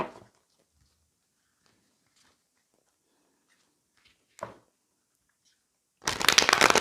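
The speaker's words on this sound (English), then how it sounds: "I'm going to shuffle more on camera." Tarot cards being shuffled: a soft riffle at the start and a brief rustle midway, then a loud, dense burst of shuffling at the end, alone without talk.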